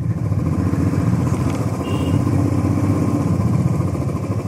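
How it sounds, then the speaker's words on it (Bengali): Motorcycle engines droning steadily on a forest road in Arunachal Pradesh, a loud continuous mid-pitched hum with no breaks or talk. "আরে এত বাইক চলছে"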